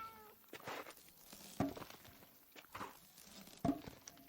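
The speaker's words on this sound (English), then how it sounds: "for instance, the cat meowing" A cat in the Farm Together video game meows several times in short, separate calls spread across a few seconds, fairly close, with light thumps between them.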